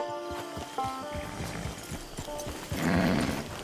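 A horse in Red Dead Redemption 2 at a camp: snorting, clip-clopping hooves and a brief whinny near the end, fairly close and loud, with game ambience underneath.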